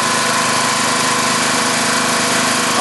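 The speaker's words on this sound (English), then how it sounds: "it's a lot easier than having a screaming engine next to you" A Tecumseh small engine runs steadily and loudly up close, a continuous buzzing drone with no one speaking.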